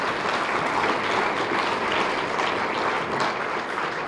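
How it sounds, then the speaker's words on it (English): Dense, steady clapping from a crowd filling a Chamber of Commerce awards gala hall, continuous and fairly loud throughout. "One more round of applause."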